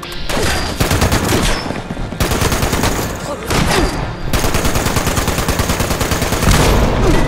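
Machine gun fire in Fallout 76, loud sustained automatic bursts of rapid shots broken by short pauses, dense and continuous for several seconds.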